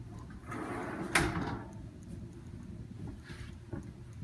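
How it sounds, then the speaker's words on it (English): A kitchen drawer with glass sides slides open or shut with one clear rolling thud, followed by faint handling sounds in a quiet room. "drawers with the glass sides"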